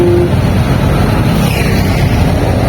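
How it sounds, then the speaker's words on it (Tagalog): A four-stroke engine idles smoothly and loudly, giving a steady, even drone with no breaks across the short stretch. "Smooth na smooth pa yung galit ng makina mga idol."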